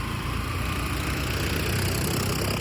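A motorcycle engine idles with a steady, low, throbbing rumble that runs unbroken from start to finish, close by, with no voices.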